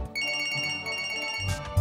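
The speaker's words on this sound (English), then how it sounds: "Our video contains an unwanted sound, a ringing phone." A phone rings with a bright electronic tone, a steady sustained ring lasting over a second and cutting off abruptly, followed by brief low thumps.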